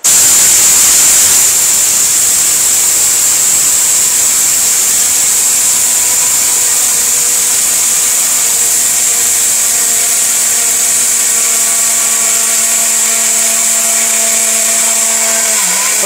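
Steel Bush blender running at full power, a loud, constant whirring roar with a steady hum from the motor, close and alone for the whole stretch.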